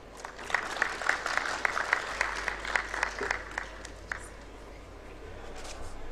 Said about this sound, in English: Another round of applause for Marceline for the good presentation.